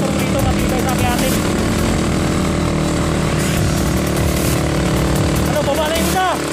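Motorcycle engine straining loudly up a steep road, a continuous close, rough drone with shifting pitch throughout, and people talking over it.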